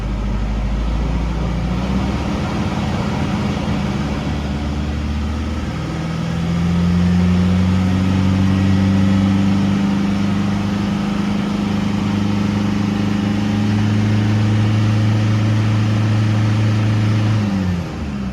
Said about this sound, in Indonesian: kita gas dan kita tahan di 3000 rpm, dia nggak mati